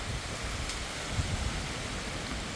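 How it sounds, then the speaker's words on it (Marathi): Rain falls steadily during an untimely pre-monsoon storm over a mango orchard, a dense even hiss of drops with low gusty rumble underneath, continuous and fairly close throughout. "पाऊस आणतोय."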